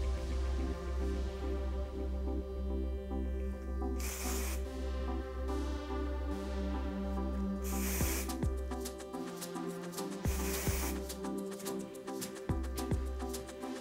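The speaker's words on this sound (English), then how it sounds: "I'm going to go in with the Kenra Volume Dry Shampoo" Kenra Volume Dry Shampoo sprays onto hair in several short aerosol bursts, close and hissy, set apart by quieter stretches of hair handling and soft rustling.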